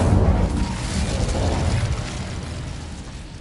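Incendio fire spell cast in Hogwarts Legacy: a loud, roaring burst of flame that hits at once and then slowly fades out.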